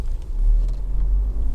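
Honda CR-V 2.0 i-VTEC ES automatic engine idling, a steady low rumble heard close and constant with no revving or talk.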